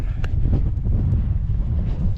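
Gusty wind rumbles low against the microphone at a wild campsite by a tent, a constant buffeting with a few faint knocks, steady and fairly loud with no talking.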